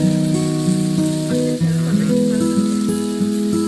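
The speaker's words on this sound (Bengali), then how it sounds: "আদা রসুন দিচ্ছে" Ginger and garlic frying in oil for Kolkata-style chicken kosha curry, giving a loud, steady, close sizzle under tonal background music with no talk.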